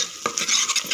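Mutton sambar masala is stirred and fried in a pan: a brief burst of close scraping and sizzling with a couple of sharp utensil strokes against the metal.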